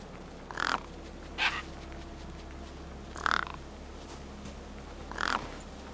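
Crows in Beyond a Steel Sky caw over a feast in four separate bursts, spaced a second or two apart, against a low steady background hum.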